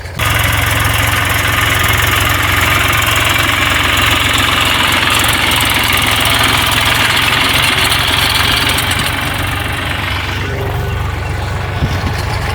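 A tractor engine runs in an open farm field, a loud, steady, close diesel throb with a rough knocking texture that eases slightly toward the end, no voices over it.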